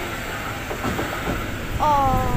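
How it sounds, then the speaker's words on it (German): An old S-Bahn commuter train rumbles loudly nearby with a steady mechanical roar, then a high metallic squeal of wheels or brakes rises near the end, while a voice briefly murmurs. "Eine alte S-Bahn ist da,"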